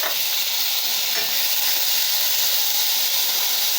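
Onion, coriander, curry leaves and tomato sizzle steadily in hot oil for radish sambar, a close, continuous bright hiss with no pauses or voices.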